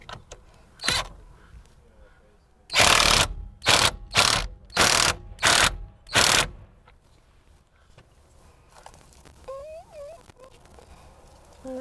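A ratchet tightens the center bolt on a Nissan 370Z steering wheel: one click, then a run of six loud, evenly spaced ratcheting bursts up close, followed by quieter handling noises and a brief whine.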